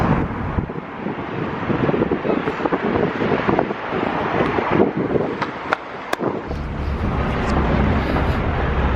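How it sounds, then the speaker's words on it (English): Strong, cold wind buffets the microphone outdoors on a coastal day, with a continuous loud roar and rumbling gusts and no speech. "the wind is making it so nippy and cold"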